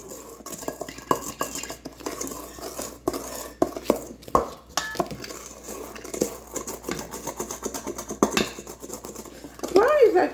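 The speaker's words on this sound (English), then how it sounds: "Keep mixing. You want all the powder off the bowl." Brownie batter being stirred in a bowl, with a utensil scraping and clinking against the sides in quick, irregular strokes and a clatter toward the end, heard close up.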